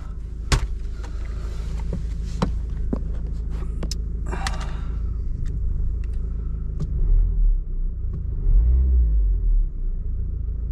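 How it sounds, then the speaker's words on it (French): A Renault Clio 3 1.5 dCi diesel engine with an injection fault rumbles steadily with odd clicks and knocking noises on top, ending in a deeper, uneven low rumble. "C'est un bruit bizarre cette bagnole là."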